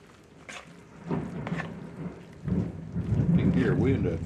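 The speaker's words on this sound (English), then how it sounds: "Here, we're in a thunderstorm tonight." Thunder rumbling through a night thunderstorm with steady rain, with rolls building and swelling louder over several seconds, heard indoors from a kitchen where meatloaf is being mixed.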